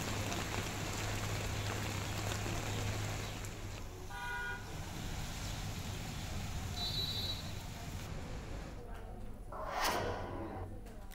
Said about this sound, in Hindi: तेज बारिश ने लोगों की मुश्किलें बढ़ा दी हैं।